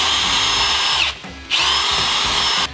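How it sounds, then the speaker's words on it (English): Power drill with a 9/32 bit boring into an aluminum Jeep Wrangler TJ/LJ drop-down tailgate: close, loud steady whine, breaking off briefly mid-way and then resuming until near the end. "You can do that with the same 9/32 drill bit we used earlier."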